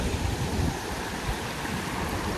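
A forest river flowing steadily, a dense, even rushing of water heard close and fairly loud, alone with no voices.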